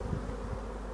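Honeybees buzz around a hive during an August colony move after swarming, a brief close, steady insect hum.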